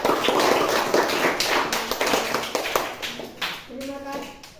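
A classroom clapping hands for a group of students who have just presented, a brisk patter that is loudest at first and fades out, with children's voices talking over the tail end.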